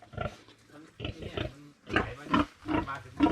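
A pig on a farm, fed on banana plant stalks, grunts in a run of low, rhythmic snorts at moderate distance.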